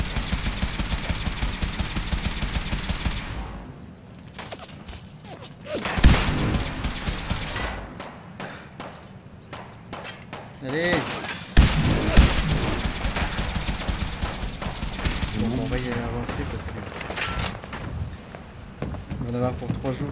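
Enemy gunfire aimed at the player in Fallout 4, with rapid bursts and scattered shots over the battle, while someone talks in French over much of it.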